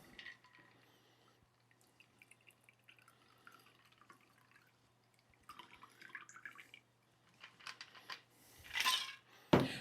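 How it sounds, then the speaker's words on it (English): A Hawaiian Sunset cocktail is poured into a chilled coupe glass, with sparse faint clinks and drips in a quiet room building to a brief, close liquid splash and glassy knock near the end. "And now we go for our chilled coupe. And we simply pour."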